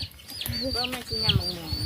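Chickens clucking close by in a rural Thai setting, a few short throaty calls rising over a steady background with people talking throughout.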